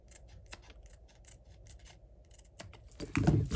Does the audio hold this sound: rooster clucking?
no